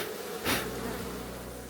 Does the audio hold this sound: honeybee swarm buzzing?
yes